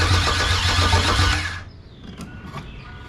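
A car engine cranking and catching with the gas pedal held down, loud and close, a rough roar that drops away to a quieter idle-like hum after about a second and a half.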